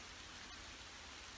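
Rain falls steadily on a farm while greenhouses are being set up, a soft, even hiss throughout with one faint tap midway.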